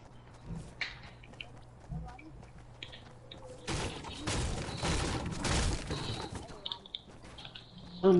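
Gunfire crackles in the video game Fortnite as a rough, dense burst of rapid shots lasting a couple of seconds, fairly faint and distant, set among scattered game sounds and players talking.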